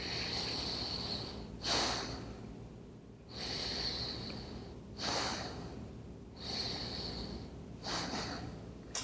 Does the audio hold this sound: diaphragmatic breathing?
yes